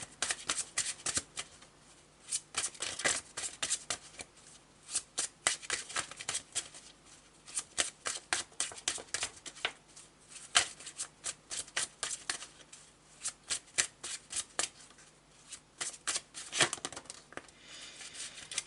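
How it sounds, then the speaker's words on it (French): Tarot de Marseille cards are shuffled by hand in repeated quick riffling and slapping bursts, fairly quiet and close, continuing throughout without speech. "je vais demander quelques cartes au tarot de Marseille"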